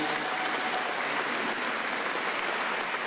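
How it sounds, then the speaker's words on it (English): A town hall audience claps steadily for a Navy veteran, a dense, even burst of applause filling the room from start to finish without a break. "Give her a round of applause."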